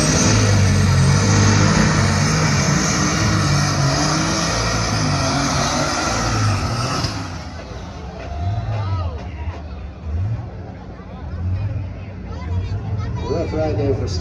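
A John Deere pulling tractor roars loud and close at a county fair truck and tractor pull, its engine straining hard, then dropping into rhythmic revving surges under crowd noise and an announcer.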